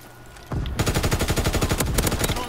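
Gunfire from a WWII-era weapon in the video game Call of Duty WWII: after a brief lull, a rapid, steady burst of automatic shots rattles close and loud for about two seconds, with no talking.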